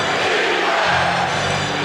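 A basketball arena crowd roars at a 2001 NBA playoff game between the Philadelphia 76ers and Toronto Raptors, a dense, loud, sustained wash of cheering and shouting filling the whole moment.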